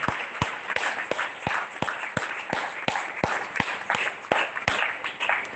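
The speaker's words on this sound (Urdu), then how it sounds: "تو میں چاہتا ہوں ایک بار پھر سے اپنے لیے ہی زوردار تالیاں بجائیے۔" A church congregation claps enthusiastically, a lively stream of sharp, uneven hand claps from many people, moderately close, with a few louder individual claps standing out.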